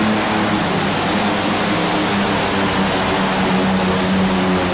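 Allison aircraft engines in a modified pulling tractor at a 1998 NFMS tractor pull in Louisville, Kentucky, roar in a loud, steady, dense drone with a deep rumbling hum throughout.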